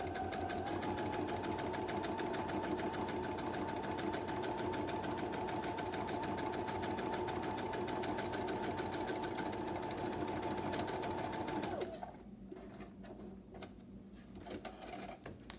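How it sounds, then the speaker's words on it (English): A sewing machine stitches a fabric bag with a steady, rapid mechanical whir for about twelve seconds, then stops. A few quieter handling clicks and shuffles come after. "We're just going to sew that right up."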